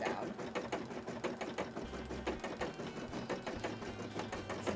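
An embroidery machine stitches a cosplay piece, a fast, even mechanical clatter of needle strokes, close but quiet, running alone without talk.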